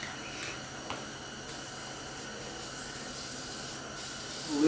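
A steady, even hiss of spray coats the bed of a junkyard pickup truck ahead of laying a vinyl floor kit, moderately close and continuous with no pauses.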